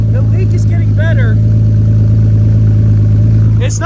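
A Lamborghini Countach with a leaking exhaust idles loud and close, a steady low mechanical rumble held throughout, with speech over it.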